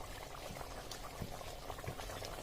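Hyderabadi egg pulusu, a tangy egg stew, bubbling steadily in a pot on the stove, a continuous close mix of popping bubbles and liquid burbling with no voices.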